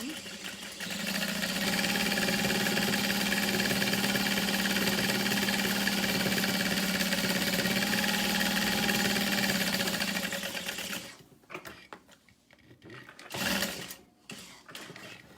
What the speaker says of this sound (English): And then across the bottom, I'm gonna stitch and then bring it back down.